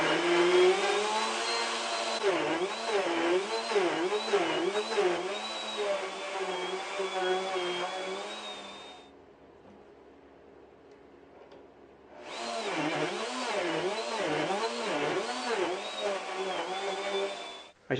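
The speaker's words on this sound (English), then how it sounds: "I'm going to cut the slots on my slot mortiser" A slot mortiser cutting slot mortises in wood, a loud whining motor with a rhythmic pulsing cut, then a few seconds of quiet before the machine runs and cuts again at the same loud, steady level.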